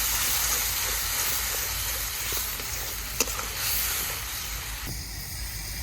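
Spice masala of turmeric, coriander and salt frying in a pan, a dense steady sizzle and hiss with a brief clink partway through and faint stirring, close and continuous without speech.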